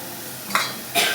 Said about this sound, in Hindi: प्याज को फ्राई करूँगी मैं। प्याज को फ्राई होने दें,